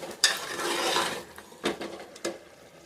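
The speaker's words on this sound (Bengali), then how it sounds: "একবারে কুকারের মধ্যে কষিয়ে রান্না করে নিয়েছি" Meat sautéed and stirred in a pressure cooker: a sizzling scrape of the spoon against the metal pot, followed by several sharp clanks and knocks, close and moderately quiet.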